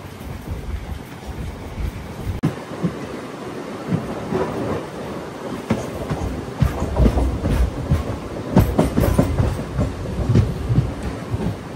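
MEMU passenger train running from Rajahmundry to Bhimavaram, heard from on board as a steady rumbling roll with repeated wheel clatter and clicks on the rails, mixed with wind noise, continuous and fairly loud throughout.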